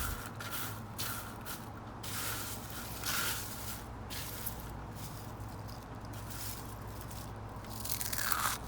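Crispy fried red onion for Egyptian koshary is bitten and chewed close up, making faint, dry, repeated crunches over a steady low background hiss.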